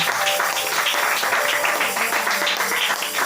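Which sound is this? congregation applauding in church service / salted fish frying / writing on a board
congregation applauding in church service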